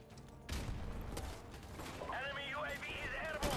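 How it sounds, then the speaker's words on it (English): An AK rifle firing in Modern Warfare Remastered, a burst of gunfire and mechanical clatter mixed into busy game sound, with someone talking over it. "Is the AK still working? Does this still fire bullets?"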